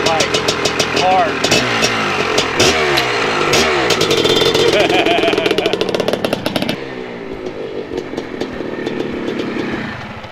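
Homemade go-kart built from junk parts, its engine revving loudly and rising and falling in pitch as it climbs through the gears, close and continuous, with brief voices mixed in.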